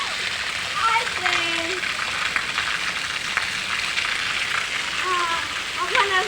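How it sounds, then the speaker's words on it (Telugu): Heavy rain pours down in a steady, dense hiss that holds evenly throughout, with faint voices murmuring beneath the downpour. "ఫుల్ వర్షం పడుతుంది."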